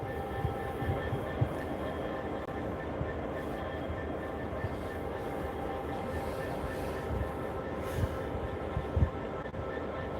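A Class 66 diesel freight locomotive held at Peterborough station gives a steady low rumble of idling engine noise, continuous and moderately loud throughout with a few brief knocks.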